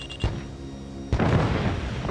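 AC-130 Spooky gunship from Ace Combat: Assault Horizon firing on hostile vehicles on a road: a short heavy boom, then after a second a sustained rumbling burst of impacts and explosions, loud and close.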